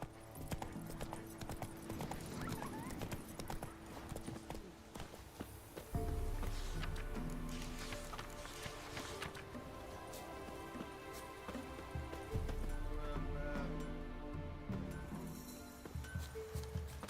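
Roach, the horse in The Witcher 3, gallops with a steady run of clip-clopping hoofbeats under a constant patter like rain, moderately loud throughout.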